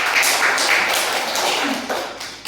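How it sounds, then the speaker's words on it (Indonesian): A room of participants applauds a presenting group at a corporate training session: dense, steady clapping that holds fairly loud throughout and thins slightly toward the end. "Tepuk tangan untuk kelompok 1"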